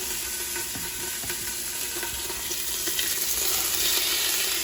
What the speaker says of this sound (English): So now in the saute feature, we're going to go ahead and get some color on these.